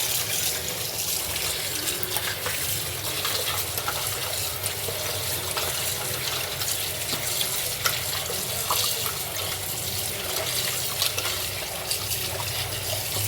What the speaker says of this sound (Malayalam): ഇത് നന്നായിട്ട് കഴുകാം.